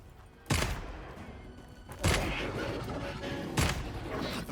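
Three heavy gunshots from a very large video game gun with spread, each a loud sharp blast spaced about a second and a half apart, with a long reverberant tail and game background noise between them.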